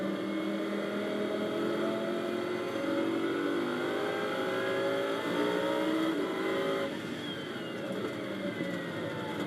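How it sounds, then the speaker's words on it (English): Lamborghini Super Trofeo race cars circulate at Barcelona's 4.6 km circuit, several engines droning and revving together in a steady, dense roar, with a shift in pitch partway as the pack moves into formation. "The cars getting themselves into formation now."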